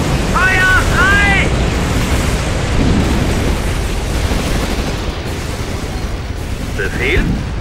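Gunfire and explosions in the World War II video game Codename: Panzers, a steady, loud rumble of battle noise throughout, with brief short voice calls early and near the end.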